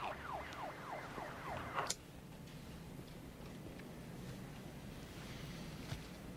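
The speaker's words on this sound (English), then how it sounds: "You hear that? Police siren." A wailing siren sweeps up and down rapidly for about two seconds, then cuts off, leaving a low steady background hum.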